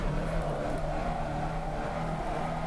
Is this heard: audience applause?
no